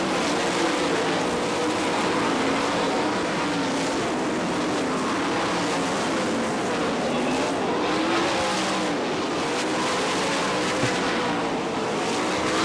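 Sprint cars race at the All Star Circuit of Champions Winternationals on a dirt track in Gibsonton, Florida, their engines a loud continuous roar as the field streams past, with no break in the noise.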